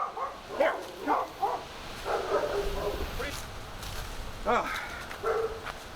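A dog barks in several short sharp bursts at moderate distance, with whimpering yips between, under an outdoor backyard ambience with some movement noise.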